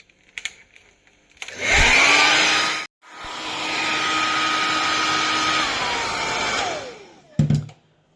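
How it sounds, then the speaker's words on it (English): A hair dryer heating vinyl wrap to remove it from a laminate worktop roars loudly and close, switching on, cutting out briefly, then blowing steadily again before winding down with a pitch drop. "watching a guy holding a loud hairdryer"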